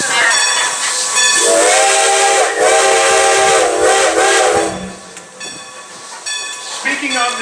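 The Strasburg Railroad steam locomotive sounds its whistle in long, loud, harmonically rich blasts amid steam hiss and rail noise, with a shorter toot near the end.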